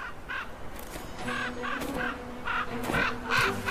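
Crows caw repeatedly over carcasses in the Arctic, harsh rhythmic calls from several birds, fairly near and loud, with no speech.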